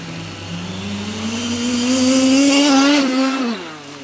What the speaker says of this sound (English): We drove that car on water so many times in the past few days.